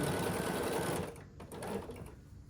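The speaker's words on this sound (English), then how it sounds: "I'm going to begin sewing here just to get to this seam" A sewing machine stitches across quilt blocks during top assembly, a steady close whir that slows and pauses briefly midway before running on again, with no talking.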